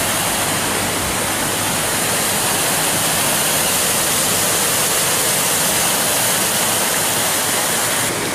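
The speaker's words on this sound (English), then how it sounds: "A bit of a waterfall thing going on here." A small waterfall beside a hill walking path roars steadily, a dense continuous rushing wash of noise at close range and constant loudness from start to finish, with no voices.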